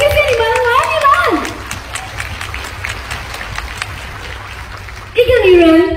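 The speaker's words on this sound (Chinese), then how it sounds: "给每个人的掌声，掌声" Audience applause at a BE International direct-selling stage event, a broad wash of clapping running steadily beneath an amplified voice that speaks over most of it before rising louder at the end.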